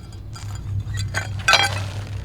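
Pieces of old, very early pressed glass clink against one another as they are handled during a backyard dig, with a few light taps building to a brighter cluster of clinks near the end over a steady low hum.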